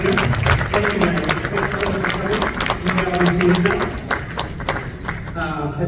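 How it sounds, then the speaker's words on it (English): An audience at a convention interfaith panel applauds the speakers: a dense, steady patter of many hands clapping that lasts several seconds, with voices speaking over it. "Can we give a round of applause for the wonderful speaking here?"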